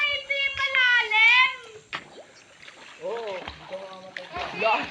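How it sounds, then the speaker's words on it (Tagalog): Water splashing in an outdoor swimming pool at a seaside resort, with children and adults shouting and talking loudly over it throughout. "Ito na yung swimming pool."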